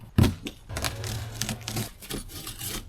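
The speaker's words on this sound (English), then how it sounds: "And we're going to cut it open here and let's see what's inside." A blade slicing open a cardboard shipping box for an Eskute T300 e-trike, heard up close as a sharp initial stab followed by scraping, rubbing and tearing of cardboard over a few seconds.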